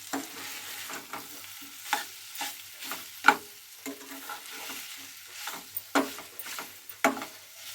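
Keema, minced meat, stirred together with small fried potato pieces in a pan, giving repeated scraping spatula strokes over a soft steady sizzle, close and moderately loud, with no talking.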